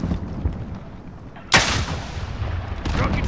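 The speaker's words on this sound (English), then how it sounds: "Rockets in the air." Rockets launch and explode in Call of Duty: Modern Warfare: one loud, sharp blast lands mid-clip over a low rumbling battlefield bed, with another burst of fire following near the end.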